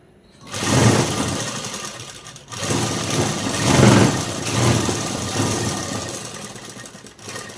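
A sewing machine stitches blouse cloth in several loud, close, continuous whirring runs, with a brief pause near the start and another partway through, and no talk.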